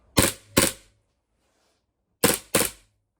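Four sharp metallic clacks of a firearm's action being worked come in two quick pairs separated by about a second and a half of silence, close and crisp, with no talk.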